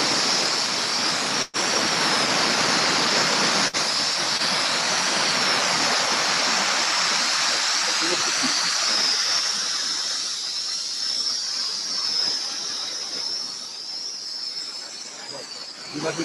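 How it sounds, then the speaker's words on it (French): A strong compressed air jet hisses loud and steady for a long stretch, used to hold a ping-pong ball in a funnel, with the blast easing slightly toward the end and a couple of brief dropouts near the start. "on va utiliser un jet d'air comprimé"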